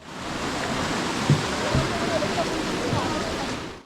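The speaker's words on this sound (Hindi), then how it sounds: "शायद ये नदी पंचतरणी से आ रही है" Steady rushing river water along the Amarnath Yatra pilgrimage route, a broad continuous roar of flowing water near a bridge, with brief faint low thumps and possible murmured voices underneath.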